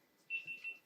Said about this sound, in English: There's a beeping thing.